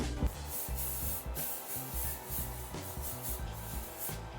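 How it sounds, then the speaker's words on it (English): Short bursts of cooking spray hiss repeatedly into Jello shot cups, close and fairly quiet, with small clicks and rustles between sprays. "I'm gonna spray it with cooking spray though, so that the Jello slides out"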